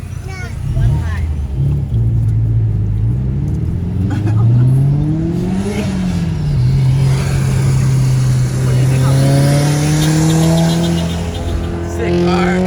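A car revving loudly on a street, a steady engine roar that rises and falls in pitch over several seconds, heard up close with people talking over it.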